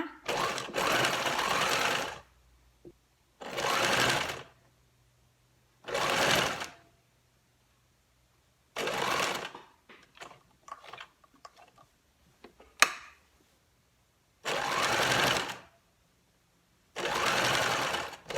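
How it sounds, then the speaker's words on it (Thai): A sewing machine stitches fabric for a chef's hat, running in loud bursts of a few seconds each. Short pauses between the bursts carry small clicks and handling noises. "ก็เย็บย้ำหัวท้ายนะคะ"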